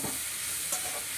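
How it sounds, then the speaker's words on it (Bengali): Malabar spinach frying over medium heat in oil rendered from bhetki fish, giving a steady, close hissing sizzle with faint stirring movements and no talk. "এবার ঢাকা দিয়ে দেবো, এটা একটু ভাজা ভাজা হবে।"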